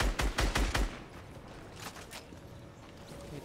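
Rapid burst of gunshots in the video game Fortnite, a team rumble match: about six sharp, loud shots in quick succession, then a couple of fainter distant shots over quieter game ambience.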